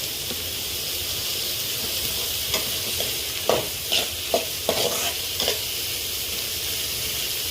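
Green chillies frying in a pan for a creamy West Bengal style chicken gravy, a steady close sizzle and hiss with a few brief scraping stirs near the middle, no talking.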